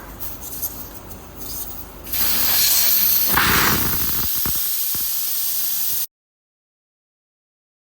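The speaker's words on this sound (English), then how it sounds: "we need to let all the air out from the tire, taking out the Schrader valve with a tool like this" Air hissing out of a 2015 BMW X5 tire through the open valve stem after the Schrader core is removed, a loud continuous rushing hiss that swells midway and then stops abruptly.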